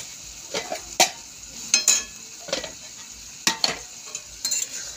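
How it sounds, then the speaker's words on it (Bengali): Soybean chunks cooking in a pan, a steady soft sizzle and bubbling broken by sharp clinks and scrapes of a spoon stirring at irregular intervals, close and moderately loud. "সয়াবিনটা আমার ফুটছে।"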